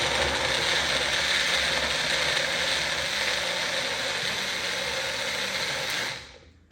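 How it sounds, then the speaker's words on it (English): A blender whirs loudly and steadily through roasted tomato salsa, a dense continuous mechanical buzz that holds for several seconds and then cuts off abruptly. "so now you just blend it."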